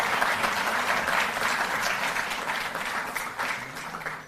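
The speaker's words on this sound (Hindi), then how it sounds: "जोरदार तालियां बजें।" A large crowd applauds continuously at a Delhi government ceremony honouring Olympic athletes, a dense, steady wash of clapping that stays loud throughout with no voices over it.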